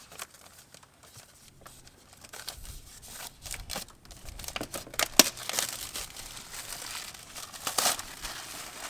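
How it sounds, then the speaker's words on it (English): A new CCV filter for a 6.7 Cummins diesel is unwrapped from its plastic packaging, with steady close crinkling and crumpling that grows busier and louder toward the end, punctuated by a few sharper tearing bursts. "I'll get this new filter unwrapped and put it in there"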